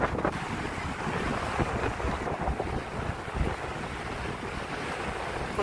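Big ocean waves at Nacpan Beach crash and wash in a loud, continuous churning roar, mixed with wind buffeting the microphone, sustained without pause and with no talking.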